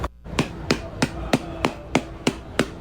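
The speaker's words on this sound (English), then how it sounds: "So he's hitting his mom on the back with this hammer." A hammer strikes someone's back in a massage, eight sharp, evenly spaced thumps close by with no talking.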